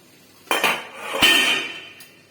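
Metal lid of an egg steaming pot lifted off, giving two sharp clanks about a second apart, each ringing briefly with a bright metallic tone, then a faint tap in a quiet kitchen.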